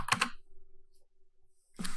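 A short burst of keyboard keystrokes as a network scan command is entered on a computer, a few close quick clicks at the start and again at the end, with near silence between.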